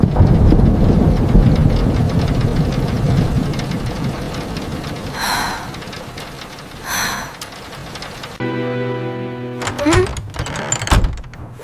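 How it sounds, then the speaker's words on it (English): Steady, dense rain hisses throughout, with a couple of brief bursts and a shift to a harsher, buzzy texture near the end. "It is raining heavily outside today."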